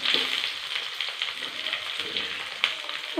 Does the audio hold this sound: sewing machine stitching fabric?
no